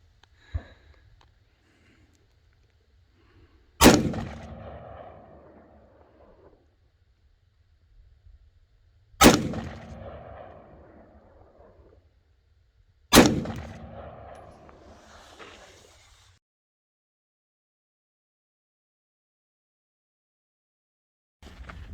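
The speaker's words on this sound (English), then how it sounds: "Not bad for the first day shooting that rifle and sighting it in." Rifle shots at an outdoor shooting range while sighting in a new rifle: three loud, well-spaced single reports, each followed by a long rolling echo, with silence between them.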